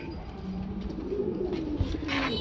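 A Spanish running pigeon hen gives a short, soft coo close by against faint background noise.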